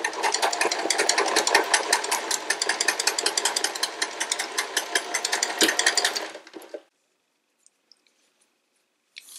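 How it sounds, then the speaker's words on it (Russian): A sewing machine fitted with a knit-fabric needle stitches knit fabric in a fast, loud, steady rattling run of about six seconds, then stops abruptly, leaving near silence with a few faint clicks. "И сшиваю на швейной машине, иголку поставлю специально для трикотажных тканей."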